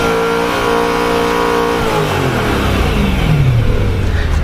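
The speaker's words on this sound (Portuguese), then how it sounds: "Dá uma acelerada aqui, deixa eu pôr o conta-giros." A 2011 BMW M3's V8 engine revs loudly toward 7,000 rpm, its pitch sweeping down then climbing again in a throaty, continuous roar close by.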